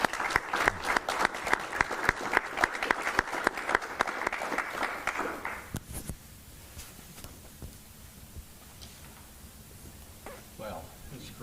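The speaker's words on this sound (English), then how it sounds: "let's give our panelists a round of applause" A crowd at a Wallace State panel event on diesel training gives the panelists a round of applause. The clapping is loud and rhythmic for about six seconds, then fades into quiet room noise with faint murmurs and shuffling.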